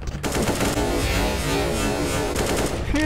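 Rapid automatic gunfire in the video game Counter-Strike: GO, a loud, continuous burst of close shots with a brief pause near the start and a few louder cracks near the end.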